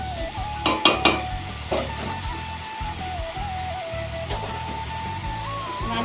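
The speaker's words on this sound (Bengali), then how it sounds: "মাছ ভাজাটা দেখো আমার হয়ে গেছে" Fish frying in hot oil gives a steady sizzle throughout, with a few metallic clatters of a spatula or pan near the start, close up and continuous.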